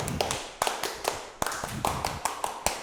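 Scout-style rhythmic clapping, a tepuk pramuka routine: a quick series of sharp hand claps in an uneven patterned rhythm with short pauses between groups, fairly close and clear, with no talk over it.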